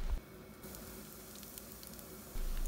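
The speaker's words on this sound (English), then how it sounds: "In a pan, take 1 spoon of oil and heat it. Add 1 spoon of urad dal." Urad dal sizzling in a spoonful of hot oil in a pan, a steady close crackle and hiss continuing throughout at low volume.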